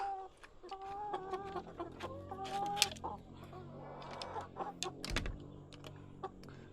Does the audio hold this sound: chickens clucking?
yes